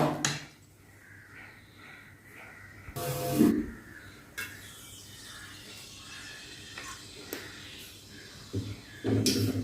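Hot oil sizzling in a pan for tempering mochai kulambu, with bursts of sharp spraying hiss and crackle between quieter stretches, close and fairly loud, mixed with clinks of cookware.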